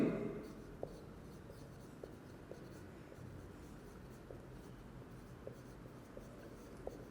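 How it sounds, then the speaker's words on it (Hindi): Marker or chalk writing on a board during a chemistry lecture, a faint steady scratching with small tapping strokes spread through the passage, in a quiet room with no talk. "तो मैं यहाँ पे लिख देता हूँ जी कि यूज्ड बाय"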